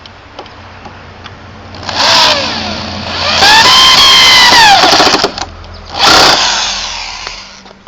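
A power driver runs screws into a glued, clamped wooden box in three whining bursts that rise and fall in pitch, loud and close, with quiet pauses between.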